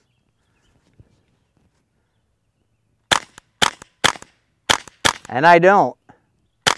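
Suppressed rimfire rounds from a 10-22 rifle fitted with a full-titanium modular silencer on an empty range: about six sharp, dry cracks in quick, uneven succession after a quiet stretch, with someone speaking briefly among the later shots.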